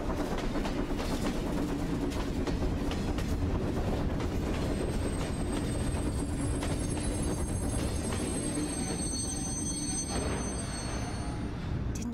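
A train in INDIKA rumbles steadily along the rails, a continuous loud roar of wheels and carriages with faint clacking and high metallic squeals creeping in toward the end.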